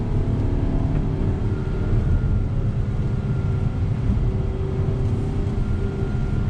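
A 2019 VW Passat SE R-Line on the move, its steady low road and engine rumble with tyre noise holding at an even, fairly loud level throughout, with no talking.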